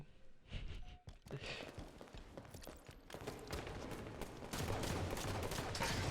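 Rapid gunfire in the first-person shooter Destiny from the Paradise Truth Slayer weapon, a dense run of quick shots heard quietly and steadily over busy game noise.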